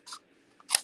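Scissors cutting paper card while crafting, two short crisp snips a fraction of a second apart, close and clear in a quiet room.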